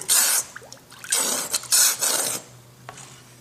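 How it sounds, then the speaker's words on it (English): Wet rasping and sloshing as a ceramic cup is plunged into thick liquid glaze, in several broad bursts with short pauses between, close up and fairly loud. "Dip it all the way in, alright, and pour it out and slowly."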